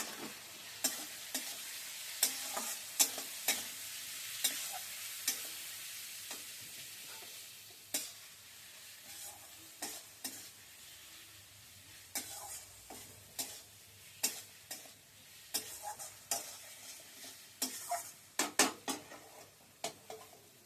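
A ginger, onion and garlic paste fries in a pan with a continuous sizzle, punctuated by repeated sharp clicks and knocks of stirring against the metal throughout.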